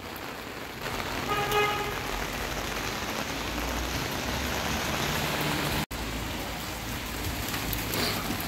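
Heavy morning rain pouring on a street in Italy, a dense, steady close roar of drops with a faint passing vehicle and a brief horn toot early on.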